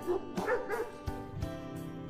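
Cartoon dog barking while chasing a fox, a few quick yipping barks over background music, fairly faint.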